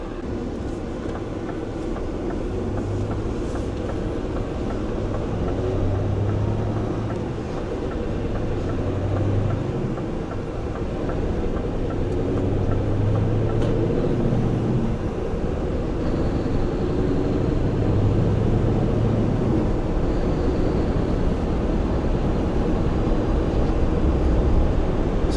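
A 2025 Scania truck drives at speed on an open road, its engine a steady, loud low drone with heavy road and wind rumble throughout, no voices.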